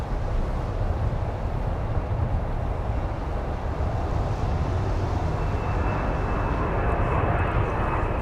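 Delta heavy jet airliner departing Minneapolis airport for Amsterdam, a deep continuous rumbling engine roar that holds steady and fairly loud, with a thin high whine emerging toward the end.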